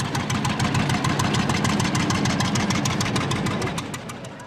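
An old two-cylinder pop-up tractor engine idles close by, loud and steady, with a rapid, even chugging beat of distinct firing pops that runs throughout and eases slightly at the end.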